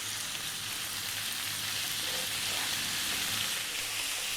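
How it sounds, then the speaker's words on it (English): Lamb pieces for biryani sizzle steadily in a hot pan on high heat, a dense continuous frying hiss with faint stirring, close and even throughout with no talk. "Stay on the high heat and just keep stirring it or just seal it just a little bit."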